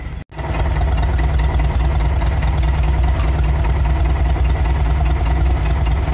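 A car engine idles with ignition timing at 15 degrees and the vacuum advance disconnected: a brief click, then a steady, close, low rumbling drone.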